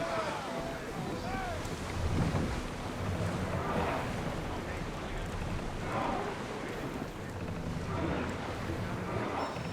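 Sailing ship in Assassin's Creed Odyssey cutting through ocean waves, a steady wash of surf and wind with rising swells, while voices speak over it.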